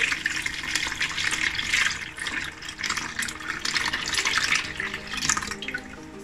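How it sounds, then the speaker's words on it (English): Orange juice sorbet mixture is poured into an airtight container, a steady, close splashing liquid stream that runs continuously with slight surges and no talk. "we'll take up an airtight container and in that we'll pour in our orange juice mixture which is our sorbet mixture"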